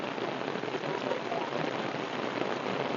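Heavy rain pours steadily onto a village, a dense, even hiss that holds at the same loudness throughout with no voices over it.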